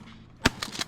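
A shotgun shot during a pigeon hunt rings out as one sharp, loud blast, followed by a few fainter distant pops and rustles.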